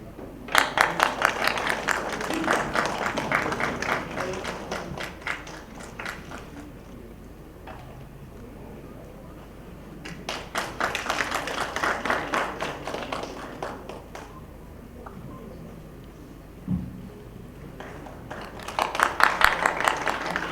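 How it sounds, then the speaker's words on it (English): Audience applause at a media summit rises in two broad waves of dense clapping, fading to quieter stretches in between before swelling again at the end, heard from within a large hall. "Please be generous in giving round of applause, dear ladies and gentlemen."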